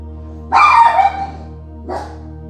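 A guard dog at the front barks indoors during a yoga session, one loud close bark followed by a shorter, softer yip about a second later, over a low steady hum.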